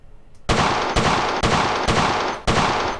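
Colt 1911 pistol shots at a shooting range in the World of Guns video game, five sharp loud reports at roughly half-second intervals, each followed by a ringing tail, with no talking.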